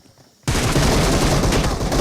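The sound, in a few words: gunfire in a shooting video game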